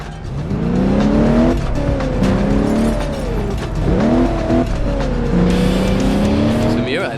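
A car chase in the PC game Crash Time 4, with engines revving and whining up and down close by, tires squealing through turns and a brief sharp screech near the end.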